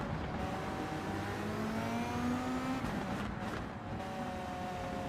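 Volkswagen Beetle Group 3 race car with a turbo engine in Gran Turismo 7, heard from inside as a steady, faint engine drone with rising and falling pitch and turbo whine, without talk.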